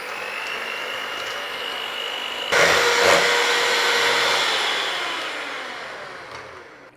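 An electric mixer whisking eggs, sugar and melted butter for an Italian apple cake, a steady motor whir that jumps louder partway through, holds, then fades gradually, close and with no talking.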